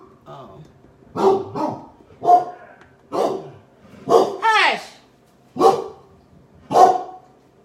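A dog barks in a home kitchen where gingerbread is being baked, with about seven loud, close bursts spaced roughly a second apart, one drawn into a rising whine, and a person talking between them.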